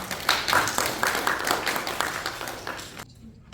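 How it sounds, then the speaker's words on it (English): Audience applause at the F50 Physical AI Summit in Texas greets a speaker, a dense run of clapping that holds steady for about three seconds, then stops abruptly into near silence. "Please give him a round of applause"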